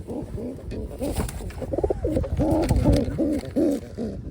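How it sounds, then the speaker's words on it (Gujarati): A pigeon coos close by in a series of soft, throaty, repeated calls, with a few light rustles between them. "તો કબૂતર જો અત્યારે બેઠું છે"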